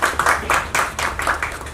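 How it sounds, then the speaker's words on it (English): Audience clapping and applause at a hotel event, a burst of many hands in fairly close, steady rhythm with uneven swells, heard alone without talk. "A big round of applause."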